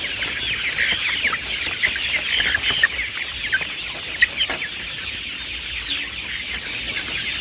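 A flock of KUB chickens clucks and squawks continuously at feeding time, a busy overlapping chatter with occasional wing flaps, close and fairly loud.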